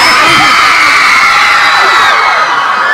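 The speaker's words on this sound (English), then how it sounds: "You know what makes fans scream all the time is if you just say greenhouse." A packed crowd of fans at a film mall tour event screams and cheers loudly and continuously, high shrieks and whoops blending into a dense wall of sound.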